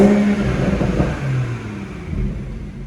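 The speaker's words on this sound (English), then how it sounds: "I'll give it a little blip on the throttle" A BMW M140i in sport mode, exhaust valve open, gives a quick throttle blip: the engine barks up sharply, then settles back into a low idle rumble, close and loud with no talk.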